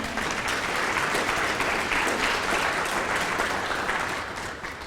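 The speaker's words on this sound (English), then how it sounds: "We would just please give them a round of applause" A room full of people applauds at a children's pageant, the Little Miss and Mister Shamrock event in Ireland, steady dense clapping that holds evenly and then tapers slightly toward the end.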